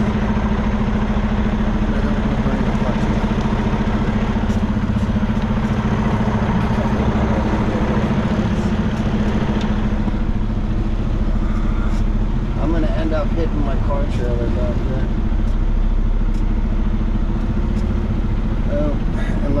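A 2019 Peterbilt 579 truck engine rumbles steadily throughout as the rig pulls away in reverse, a low continuous drone with people talking over it.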